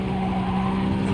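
A race car in GT Sport spins out, tires squealing in a continuous skid over a steady engine drone, loud and close.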